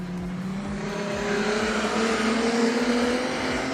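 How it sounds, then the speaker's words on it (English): Speedway race cars circle the dirt track at Gympie Speedway during an AMCA Nationals event, engines droning loud and continuous with overlapping revs and passing cars. "John Stowers looking to drive around the outside and into position number 3"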